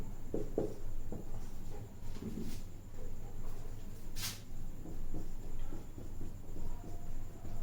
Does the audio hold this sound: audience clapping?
no